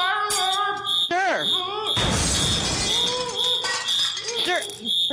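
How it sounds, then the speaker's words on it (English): A fire alarm beeps as a high, steady tone through a prank phone call, heard beneath loud, frantic shouting and a crash of noise. "The fire alarm!"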